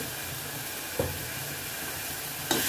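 Spice masala with coriander powder sautéing in a pan, a soft steady sizzle under two quick scraping stirs of a spoon, fairly faint with no talk.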